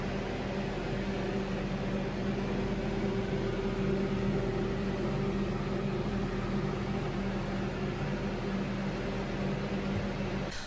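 A food dehydrator drying raw vegan onion thyme crackers runs with a steady, unbroken fan whir and low mechanical hum, constant and close, with no other sounds.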